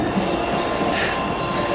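Purple Line commuter train rolling past a station platform, a steady broadband rumble and hiss with faint wheel noise, continuous and fairly close, with no talking.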